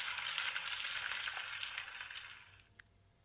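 Boiled raw mangoes being stirred into fried masala in a pan for a sweet-and-sour pickle-style salan, a steady close sizzle with soft scraping and stirring that fades near the end, with one small clink.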